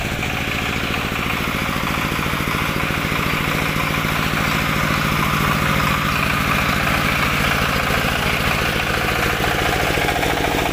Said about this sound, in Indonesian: Untuk mesin pakai Dongfeng, dinamonya ADK.